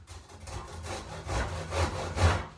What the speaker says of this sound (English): Get your nice saw.